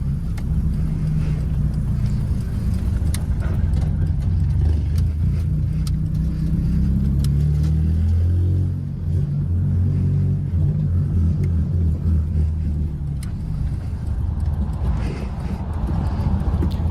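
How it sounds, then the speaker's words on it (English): A 2000 Honda Accord engine runs steadily with a deep, continuous rumble, rising briefly in a rev partway through before settling back to a constant drone. "There's a 2000 Honda Accord."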